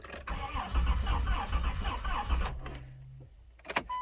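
The engine of a 1994 Chrysler Town & Country in poor condition cranks with the starter in a rough, rapid churning for about two and a half seconds, then stops, followed by a brief hum and a few clicks.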